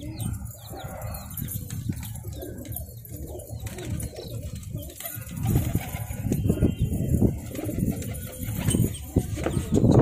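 Pigeons in a loft, soft cooing close by with wing flaps and shuffling movement, steady throughout and no talking.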